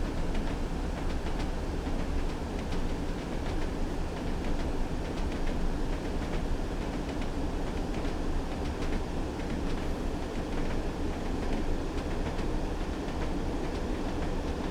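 Diesel train in Train Sim World 2 on the Tees Valley Line, a steady rumble of the engine with continuous rhythmic wheel clacking over rail joints, heard close and alone with no voices.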